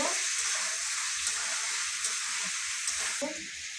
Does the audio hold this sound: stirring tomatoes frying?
yes